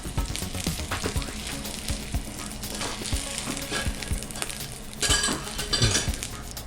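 Eggs sizzle and fry in a pan on a breakfast cooking set, a steady close crackle with clinks of a utensil against the pan and a brief louder burst of sizzling near the end.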